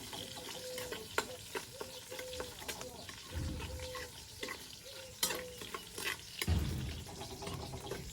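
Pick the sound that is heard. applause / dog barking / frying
frying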